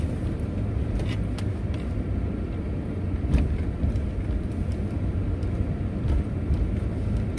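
Steady low rumble of a car driving along a city street during a quarantine, with road and wind noise and a few brief ticks and bumps, no voices.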